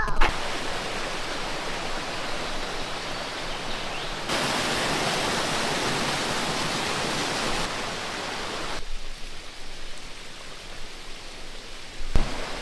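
Steady broadband rush of a waterfall beside a cafe in Maşukiye, Sapanca, continuous and fairly loud throughout with shifts in intensity and no talk audible.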